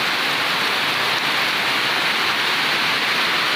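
Heavy rain pours down steadily, a dense continuous hiss of downpour close by with no voices and no breaks.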